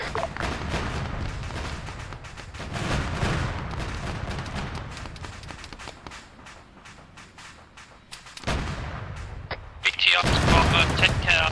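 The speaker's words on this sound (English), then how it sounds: "Oh, it's got the machine gun." Machine-gun fire and other gunshots in an Arma 3 Zeus operation around a vehicle, rapid repeated shots over much of the stretch with a brief lull and a loud final burst, players talking over it.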